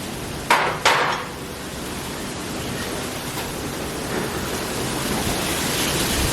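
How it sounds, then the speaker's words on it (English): Strong wind buffets a microphone outdoors at an off-grid Thanksgiving cooking setup, a constant loud broadband rush with two sharp gusty thumps near the start. "Sorry about the wind noise."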